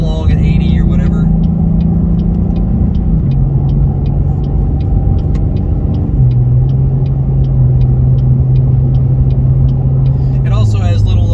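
A Cadillac ATS-V's engine drones steadily while cruising on the road, its pitch stepping down in stages through gear changes, with a faint ticking in the background and a voice talking over it at the start and end.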